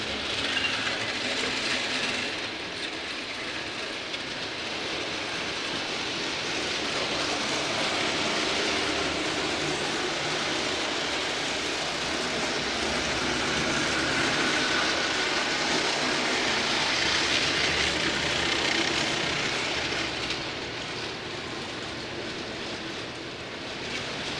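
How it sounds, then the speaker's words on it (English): A model railroad train pulled by a Reading locomotive runs continuously on a layout during an operating session, giving a steady, fairly loud rolling rumble and whir that swells slightly in the middle, with no talking. "I forgot that Reading locomotive has got some gusto."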